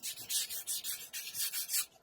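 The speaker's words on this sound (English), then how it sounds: "I'm going to hit this real lightly with the sandpaper, knock it down a little bit" Sandpaper rubs lightly over a resin Hulk sculpture in quick back-and-forth strokes, about eight soft rasping passes in an even rhythm, close and quiet with no talk.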